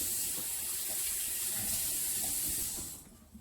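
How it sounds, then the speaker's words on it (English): A kitchen tap runs steadily for hand washing, making a soft, continuous hiss of water that fades out near the end. "we're going to go ahead and wash my hands again because I am changing tasks"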